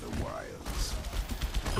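Gunfire in the video game Overwatch: a quick burst of several sharp shots close together, mixed under a voice and other game sounds.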